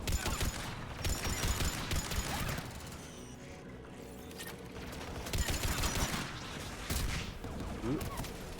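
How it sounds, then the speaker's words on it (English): Anti-aircraft guns in Mass Effect 3 fire in rapid repeated bursts amid clanking mechanical clatter and crashes, loud and busy, with a few quieter lulls in between. "There, the anti-aircraft guns."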